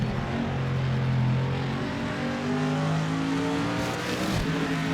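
A Corvette GT race car in a racing video game holds a steady, loud engine drone with shifting harmonic pitch for the whole stretch, heard alone with no talking.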